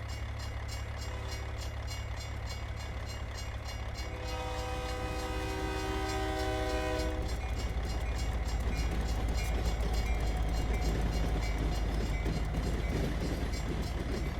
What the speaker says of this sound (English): See, the distance this train comes in is actually pretty realistic.